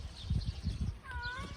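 A cat out on a walk alongside a dog gives one short, rising meow near the end, close by, over low outdoor rustling and scuffing.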